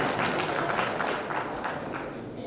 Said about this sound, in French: On applaudit Green Hills.